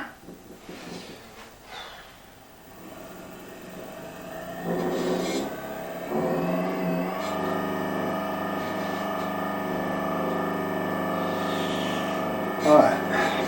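A Union Jubilee lathe's electric motor starts up and settles into a steady, moderately loud hum with a whining tone, running continuously while someone talks over it.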